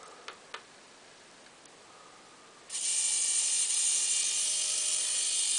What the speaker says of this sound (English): So this motor is pretty slow.